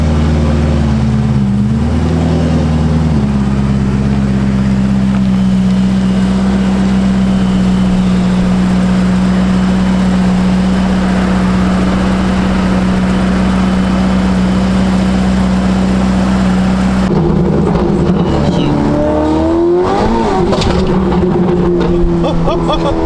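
A modified Ferrari F8 Tributo with a new exhaust and DME tune holds a loud, steady engine drone, then blips into quick rising revs near the end as people talk nearby.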